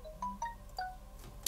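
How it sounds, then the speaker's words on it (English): A phone ringtone plays a short sequence of bright electronic tones, close and clear, with no talking. "It's my phone."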